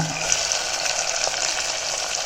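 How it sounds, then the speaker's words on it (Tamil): Chopped onion, tomato, capsicum, beans, carrot and green chilli frying in a pan for kodo millet kichdi, a steady close sizzle with faint stirring and no talk. "இப்போ இந்த ஸ்டேஜில் நம்ம கட் பண்ணி வச்சுருக்க காய்கறிகள் எல்லாத்தையுமே சேர்த்துக்கலாம்"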